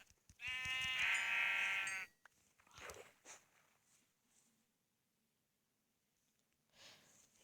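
A single loud, close Minecraft sheep bleat lasts about two seconds, followed by faint rustling and soft footsteps.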